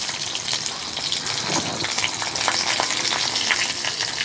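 Onion and dried red chilies fry in hot oil in a pan with a loud, dense, crackling sizzle and scattered spatula stirs, steady and close throughout.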